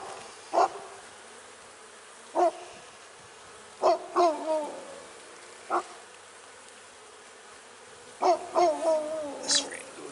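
A dog vocalizes beside an open beehive during spring mite treatment, giving a series of short, hooting, howl-like calls spaced irregularly, some in quick pairs, over a steady low background hum.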